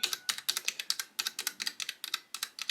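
Rapid, fairly loud clacking of a Leopold mechanical keyboard with brown switches, an uneven stream of keystrokes with no voices.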